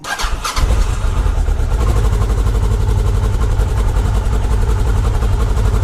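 A Kawasaki ER6f Ninja 650 motorcycle starts up, then its engine idles fast and steady on the automatic choke, loud and close with a constant low throb throughout.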